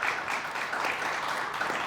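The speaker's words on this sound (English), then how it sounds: "Let's have a round of applause for them." An audience applauds a quiz bowl team at a tournament, with a sustained, even patter of many hands clapping throughout, close and fairly loud with no talk over it.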